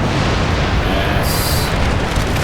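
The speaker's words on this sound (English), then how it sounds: "Combined musket fire and organ gun fire." Massed musket and organ gun volleys in the strategy game Empire: Total War roar as a continuous, loud, dense rumble of overlapping gunfire, with no talk.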